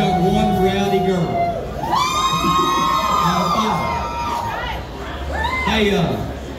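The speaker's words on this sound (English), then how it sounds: "We got a rowdy crowd." Rowdy crowd at a live music show whooping and cheering loudly and continuously, with shouted voices rising over a dense, steady roar of the audience.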